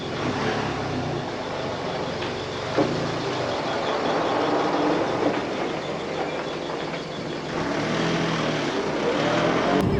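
Heavy trucks rumble past on a freeway in outback Western Australia, a steady close roar of engines and tyres with occasional louder swells as vehicles pass, no voices.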